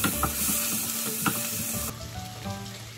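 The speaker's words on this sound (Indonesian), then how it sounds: "Kita nunggu bawang putihnya sampai kecoklatan." Chopped garlic sizzling gently in melted butter over low heat, a steady soft frying hiss with occasional light stirring scrapes, close and alone.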